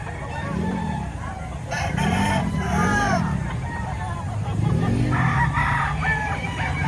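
Several fighting cocks crow in repeated drawn-out calls at a poultry market in Lipa, Batangas, some near and some farther off, over a steady babble of voices and occasional clucks.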